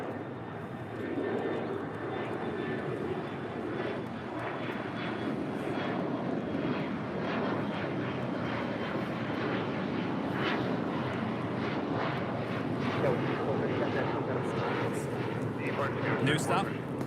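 An Alaska SkyWest jet airliner taking off from LAX, a sustained engine roar with rumbling bursts, heard under people talking nearby.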